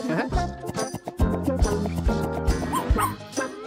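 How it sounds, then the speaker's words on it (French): A small puppy gives a run of high yips and soft barks mixed with whimpers. The sounds are close and fairly loud, with a faint jingle underneath. "Regarde, un bébé chien."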